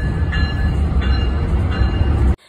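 A train in Miami runs on rails with a loud, steady rumble and a faint high squeal, then cuts off sharply near the end.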